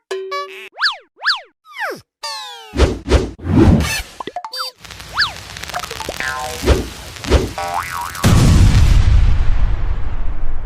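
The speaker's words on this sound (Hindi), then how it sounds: "आपको पटाखे से डर नहीं लगता है तो इसे फोड़कर दिखाओ।" Cartoon sound effects as a firecracker bomb goes off: a string of boings and whistling zips, thumps and pops, and a final loud booming explosion with a rumbling tail.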